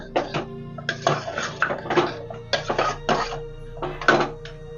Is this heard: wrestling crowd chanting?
no